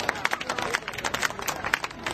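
An audience at a stage show claps to welcome the performing group, a continuous crowd patter with some rhythmic beats and a few voices mixed in.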